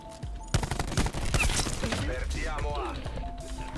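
Gunfire in the first-person shooter Black Ops 4 comes as a rapid burst of close, sharp shots that fade into lingering clatter, while someone speaks over the shooting.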